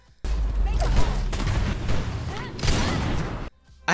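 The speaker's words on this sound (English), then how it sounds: "Sound effects are an electronic hum into a nice explosion." A dense rumbling blast with sweeping electronic tones from Belica's void bomb in the video game Predecessor, loud and sustained, ending abruptly before a short burst of noise resumes.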